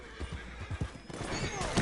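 A horse in a video game neighs and whinnies, with hoof clip-clops thudding in a loose rhythm underneath, fairly close and clear with no talk over it.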